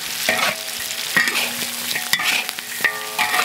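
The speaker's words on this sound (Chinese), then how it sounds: "再给它翻炒一下" Duck pieces and a heap of chili peppers tossed in a hot wok, sizzling and spattering as a spatula scrapes and stirs in quick repeated strokes, close and fairly loud with no talking.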